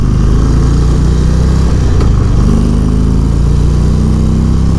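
A 2022 Indian Roadmaster motorcycle with its Thunderstroke engine, heard at close range as a steady, loud low engine drone while the bike gets up to highway speed, with a brief dip and a rising tone shift partway through.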